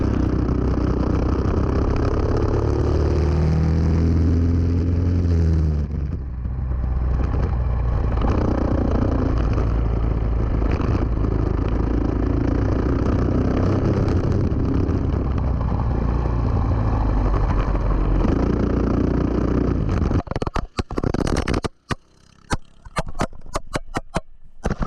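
A go-kart engine, a GX-UK kart on a track, drones steadily at mid pitch for about twenty seconds, then breaks into choppy bursts and dropouts as the throttle is blipped near the end.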